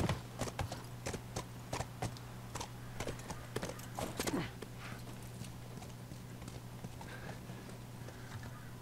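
Horse hooves clip-clop in The Last of Us, a steady walking rhythm that is clear and close for the first few seconds, then fades to a faint background over a low ambient hum.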